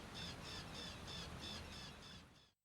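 A crow-like bird cawing in the video game Broken Sword: The Sleeping Dragon: about eight evenly spaced, moderately loud squawking caws over a steady noisy background, ending abruptly into silence.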